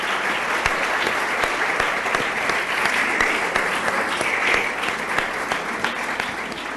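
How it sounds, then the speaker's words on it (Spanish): An audience at an architecture talk applauds a newly named dean of the college, steady dense clapping from many hands, close and loud, sustained without pause throughout. "Pido un aplauso para ella."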